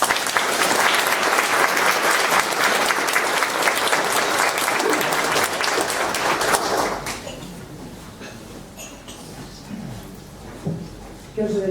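An audience gives politician Bjarni Benediktsson a loud, sustained round of applause, dense clapping that holds steady for several seconds and then fades out, followed by quieter room noise and scattered movement.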